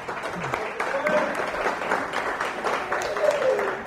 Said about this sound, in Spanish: Un aplauso fuerte para todo Punta Arenas,